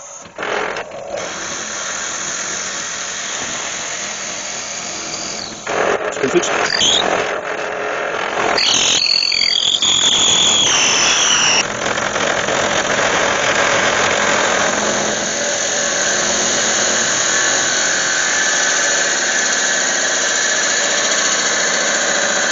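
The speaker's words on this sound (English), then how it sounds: "put a 12mm drill down through as far as I can get it down" A 12mm drill grinds steadily into spinning walnut on a lathe over a constant machine drone, with squealing, scraping bursts partway through and no talking.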